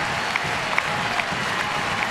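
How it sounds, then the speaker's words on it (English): Ballpark crowd of about twenty thousand at Progressive Field during a ninth-inning MLB game, Twins at Indians, clapping and stomping in a steady, dense roar of applause with a few sharper peaks. "most of them are up clapping and stomping"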